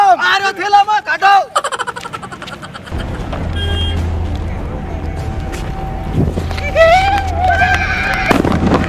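Diwali firecracker bombs go off in a village, a few sharp bangs and crackling bursts among excited shouting voices and background traffic rumble.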